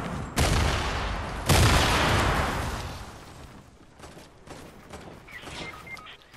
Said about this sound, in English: Where are they shooting at us from?